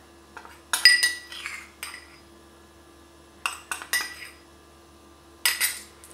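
A spoon stirs cocoa cake batter in a bowl, giving sharp clinks and scrapes against the dish in three short bursts separated by quiet pauses, with no talking.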